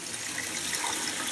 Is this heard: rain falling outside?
no